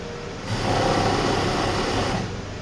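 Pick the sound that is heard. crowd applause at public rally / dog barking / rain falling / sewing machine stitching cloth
sewing machine stitching cloth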